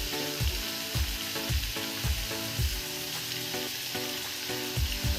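Spices, chopped tomato and green chili stirred as they fry in a pan for a potato and pointed gourd curry. A loud, continuous sizzle runs throughout, with regular scraping stir strokes about twice a second and no voices.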